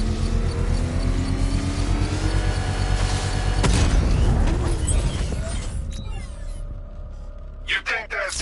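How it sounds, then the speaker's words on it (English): A controlled bomb blast in Batman Arkham Knight erupts as a loud, rumbling explosion midway, rolling into debris and echoing booms before fading into quieter game sounds and scattered thuds. "I can use the power winch to trigger a controlled explosion"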